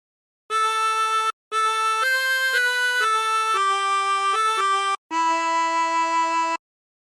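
A phrase of Silent Night played on a 24-hole tremolo harmonica: several sustained, reedy wavering notes in three breaths separated by short gaps, the last note held longest, clear and close with no talking.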